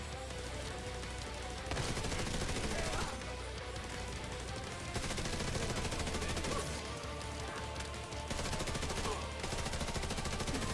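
Automated turret in The Division 2 firing at an enemy, rapid bursts of gunfire rattling in sustained runs with brief pauses, loud and close over a steady game soundscape.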